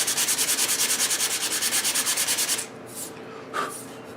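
Rapid back-and-forth sanding of the finish on an Emerson 628 radio's wooden cabinet, steady close strokes that stop partway, followed by a few faint handling sounds.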